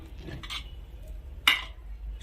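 Nirobhamish khichuri made with Gobindobhog rice being stirred in a pot after the lid comes off: a soft scrape of a spoon, then one sharp metallic clink against the pot, close by.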